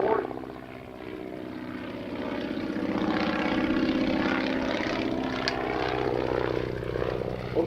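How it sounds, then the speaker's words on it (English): A Boeing Stearman biplane flies at an airshow, its propeller engine giving a loud, steady droning roar that swells slightly and holds throughout. "The Stearman was the standard training aircraft for the Army Air Corps and the Navy during World War II"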